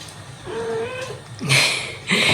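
A house cat meows loudly and close by. A drawn-out meow is followed by two shorter, sharper calls over low background noise.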